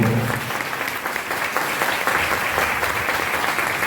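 A church congregation applauds at the feast of the eighth coronation of Mother Mary: broad, continuous clapping from a large crowd, full and even throughout, with no voice standing out.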